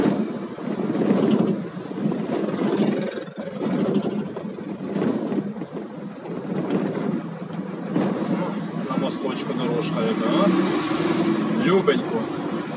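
Steady road rumble from a car driving along a rough highway between Odesa and Kotovsk, with continuous engine and tyre noise and wind buffeting the cabin throughout.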